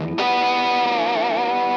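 A heavily distorted Hamer Steve Stevens SS2 electric guitar note jumps into a piercing squealing pinch harmonic that sustains with wide vibrato, loud and close.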